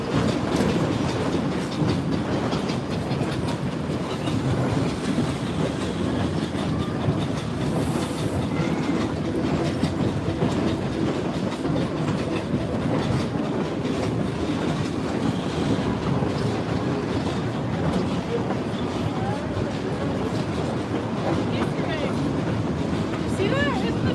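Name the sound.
train riding on track in Colorado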